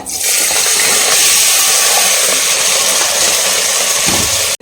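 Water poured from a jug onto rice for a peanut kathirikai gravy, a steady loud rushing gush that fills the whole clip, close up and unbroken until it stops abruptly at the very end.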